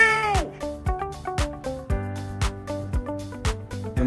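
A synthetic AI voice imitates a real cat meowing, repeating about eight short, falling, close meows at an even, rapid pace over faint steady background tones.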